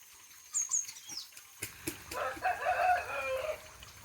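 A rooster crows and chickens cluck nearby at an outdoor household worship before the bird is cooked, the crow rising first, followed by a burst of loud clucking and rustling, with no talking.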